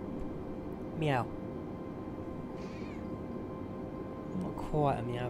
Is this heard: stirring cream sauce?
no